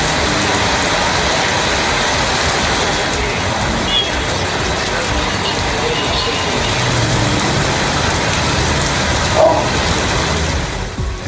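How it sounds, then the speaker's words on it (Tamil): Heavy rain pours down at night in Vellore during a second day of downpour. It is a dense, steady hiss that lasts the whole stretch, with a faint low rumble that may be passing traffic. "வேலூரில் 2வது நாளாக கனமழை கொட்டி தீர்த்தது."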